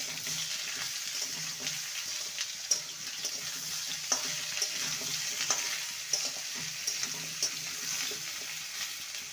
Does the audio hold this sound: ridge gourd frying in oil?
yes